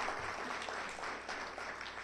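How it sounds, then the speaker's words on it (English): Audience applause fills a panel discussion space, a steady wash of clapping from a crowd that holds at an even level throughout, with a faint voice briefly underneath. "How about another round of applause?"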